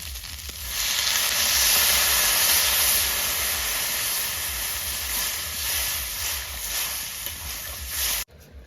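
Water poured into a hot pan with cauliflower stalks sizzles loudly and steadily, a dense close hiss holding for several seconds before cutting off abruptly near the end.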